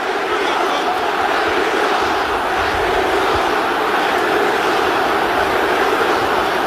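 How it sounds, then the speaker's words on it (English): At an NFL game between the Houston Texans and Indianapolis Colts, a stadium crowd boos in a sustained, loud, broad roar that never breaks for the whole stretch. "the crowd continues to voice their displeasure at the moment"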